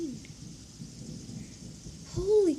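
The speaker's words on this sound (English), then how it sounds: "Holy crap, there's so much rain." Heavy rain with thunder: a soft, steady rain wash under a low, distant rumble that swells louder near the end.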